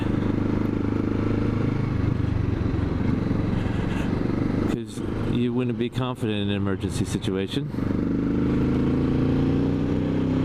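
A Kawasaki Z650RS motorcycle engine drones steadily while riding, its pitch climbing and falling as the revs change, with someone talking over it and the engine briefly easing off midway.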